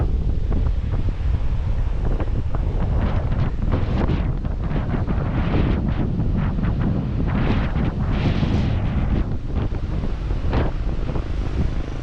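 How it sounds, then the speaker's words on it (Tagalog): Ocean waves break on a shore in the north of Luzon, a continuous rushing surge heavily mixed with buffeting wind on the microphone, loud and close, with no talking. "Sarap sa tenga nung"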